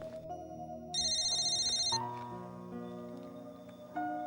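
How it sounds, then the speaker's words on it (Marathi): A mobile phone rings with an incoming call, its electronic ringtone playing a sequence of tonal notes that change pitch every second or so, clear and moderately loud with no talk. "ए रोहन, मला का फोन करतोय?"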